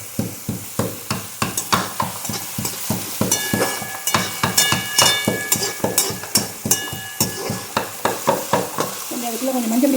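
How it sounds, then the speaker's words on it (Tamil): Steady scraping stirs of a spoon through brinjal gravy frying in a pan with ginger and green chillies, a quick regular rhythm of clinks and scrapes over a continuous close sizzle. "நான் பெரட்டுறேன்."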